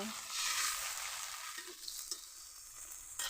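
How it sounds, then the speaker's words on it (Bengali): Catfish curry being stirred in the pot right after water is poured in, a steady bubbling sizzle with scattered scraping and clinking from the spoon, no talk. "এখন জল ঢেলে দিলাম এর ভিতরে একটু নেড়ে চেড়ে দেব"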